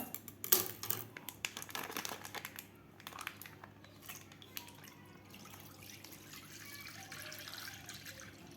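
Water tipped out of a kadhai in a home kitchen, a sharp splash at the start trailing into soft drips and a faint trickle, close by with no talking.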